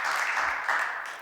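A church congregation applauds during a sermon, a steady dense wash of clapping heard from within the room, sustained and even throughout with no break.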